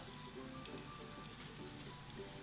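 Crushed ginger and garlic sizzle in hot coconut oil, giving a steady, close crackling hiss that holds evenly throughout with no voices.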